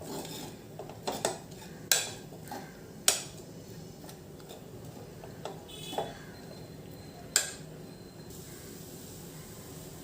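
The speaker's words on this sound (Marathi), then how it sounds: "हे गूळ देखील आपण व्यवस्थित मिक्स करून घेणार आहोत" A utensil stirring jaggery into a rice mixture in a pan, with scattered scraping and sharp metallic knocks against the pan at irregular intervals, close and fairly quiet, with no talking.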